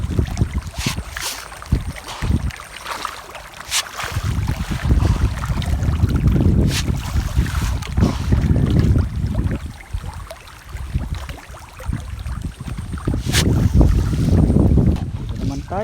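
Strong wind buffets the microphone outdoors beside tilapia fish ponds on a hot day, gusting in loud, uneven surges with brief lulls and faint speech in between.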